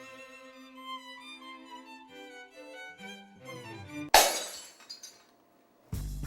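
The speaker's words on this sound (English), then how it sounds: "Glass breaks in a science classroom." Glassware shattering in a science classroom: a loud, sudden crash with a scattering tail of tinkling shards after a few seconds of plucked musical notes, then a second burst of breaking glass at the end.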